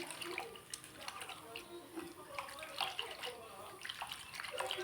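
Dried small fish (karuvadu) are rinsed in hot water, splashing and sloshing in bursts at close range, quiet and intermittent with faint kitchen background.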